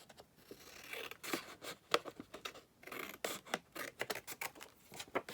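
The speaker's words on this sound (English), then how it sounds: "So I'm just going to cut this down here." Scissors snip a photo down to size for a folio, close and quiet, with a quick run of crisp cuts and paper rustles in uneven bursts.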